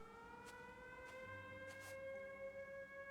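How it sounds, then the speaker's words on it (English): A steady air raid warning siren wails in the video game Everybody's Gone to the Rapture, holding sustained layered tones at a fairly distant, faint level, with a few soft thumps beneath. "That's a raid warning sound, siren."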